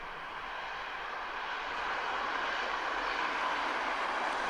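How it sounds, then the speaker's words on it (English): Boeing 747 airliner engines in an animation roar steadily during takeoff, a loud, even broadband rush that swells a little after the start and then holds, with no talking over it. "Nice airplane. The 747 is absolutely beautiful."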